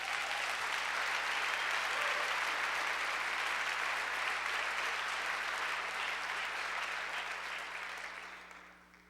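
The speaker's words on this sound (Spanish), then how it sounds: "Dale un fuerte aplauso a Dios." A church congregation bursts into loud, sustained applause that holds steady for about eight seconds, then tapers off near the end.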